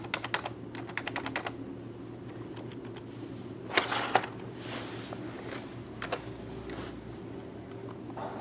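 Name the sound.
pressing F2 key on keyboard to enter Acer setup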